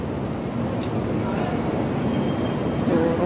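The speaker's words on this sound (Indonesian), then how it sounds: "Ini mereka naik kereta api ya semua." Continuous low rumble of a moving commuter train in Hong Kong, with a faint rising squeal near the end, heard from inside at close range.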